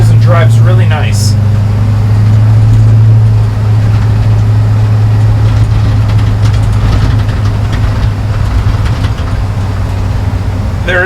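A 1953 Chevy 3100 farm truck with an LS engine swap, driving with a steady low engine drone and road rumble beneath someone talking throughout.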